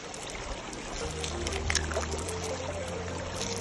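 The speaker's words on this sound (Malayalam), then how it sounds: "ഇതേ ചില സ്ഥലത്ത് ഇതുപോലത്തെ പൈപ്പുണ്ട്, അപ്പോൾ അവിടെ നിന്ന് ഇങ്ങനെ വെള്ളം വരുന്നുണ്ട് കേട്ടോ" Water running from a pipe in an icy valley at Pahalgam, Kashmir, a faint, steady trickle and splash heard from close by, with no talk.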